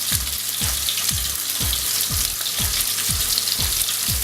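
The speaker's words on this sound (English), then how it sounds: "on medium heat I'm just going to add my tomato sauce in" Tomato sauce sizzles loudly in a pan over medium heat, a dense continuous frying hiss with regular low thumps repeating about twice a second throughout.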